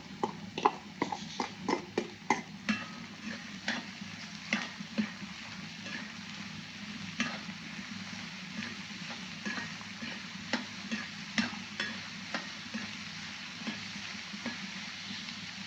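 Onions, about 200 grams, tossed into a pan and frying for chicken, with a steady sizzle under repeated close clicks and scrapes of stirring.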